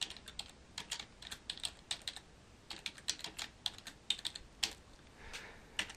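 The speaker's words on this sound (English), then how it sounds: "type my signature" A computer keyboard is used to type out an email signature. Quick clattering keystrokes come in uneven bursts with short pauses, close and fairly quiet, with no voices.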